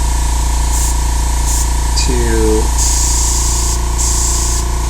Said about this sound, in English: you can see it's spraying pretty nicely here.